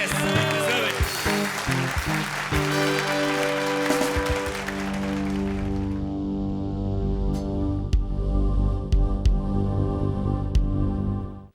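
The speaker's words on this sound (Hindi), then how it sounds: "एक बार जोरदार तालियां" Loud, sustained applause from a studio audience at a TV comedy show, with music playing underneath that fades partway through.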